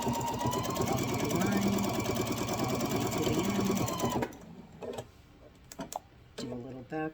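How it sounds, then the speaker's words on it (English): Sewing machine stitching a grocery bag, a fast steady whirring run for about four seconds before stopping, then a few faint clicks and handling sounds in the quiet. "And then sew following the line."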